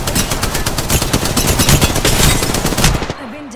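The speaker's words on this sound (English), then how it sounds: "Taking fire." Rapid automatic gunfire in a shooter video game, a loud, close stream of dense, evenly spaced shots that stops abruptly after about three seconds, leaving a brief electronic warble.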